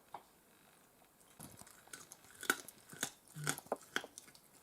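A cat chews crunchy fresh fish, quiet irregular crunching and biting sounds building into a quick cluster of crisp bites, close but faint with no talk.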